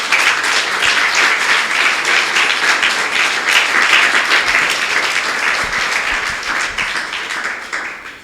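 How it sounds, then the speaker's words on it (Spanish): Sustained applause from a church congregation at a Spanish-language Pentecostal-style sermon, a dense, steady wash of many hands clapping close and loud, fading slightly at the end. "Denle un aplauso al Señor"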